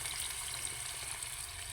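Onions and meat fry in oil in a wok, a steady close sizzle with a faint bright crackle running throughout, no voices.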